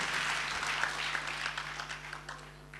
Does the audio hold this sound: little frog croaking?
no